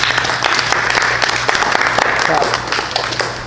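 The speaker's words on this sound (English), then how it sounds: "Round of applause for Miss Melissa." Loud, sustained applause from an audience, dense clapping filling the room without letup.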